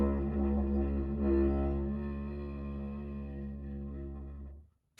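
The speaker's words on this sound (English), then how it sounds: "so this is what a book dig sounds like" Book dig, a compact handmade didgeridoo-like instrument, played in one sustained, deep, buzzing drone rich in overtones, loud and close, wavering slightly before cutting off.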